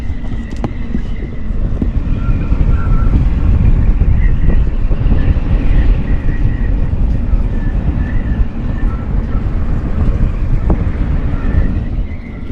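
Strong wind howls over a sailboat at anchor with whitecaps on the water, a loud, continuous gusty roar with buffeting on the microphone and no talking.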